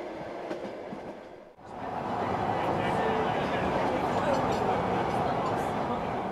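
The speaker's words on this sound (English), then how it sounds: "The train is nearing Kazan." A private Trans-Siberian train nearing Kazan rolls along the rails with a steady, fairly quiet rumble that dips briefly early on and then holds a constant level.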